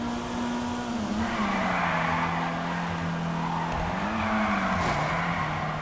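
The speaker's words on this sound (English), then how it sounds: "We gotta do a mega drift here." A Flash GT rally sports car drifts hard in GTA 5 Online, its engine holding a loud, steady roar that rises and dips in pitch through the slide, with tire skid hiss running continuously underneath.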